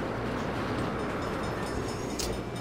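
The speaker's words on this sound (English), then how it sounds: "Bad time for a train." A train rumbles past in the video game Saints Row, a loud, continuous broadband roar that fills the whole moment with no speech.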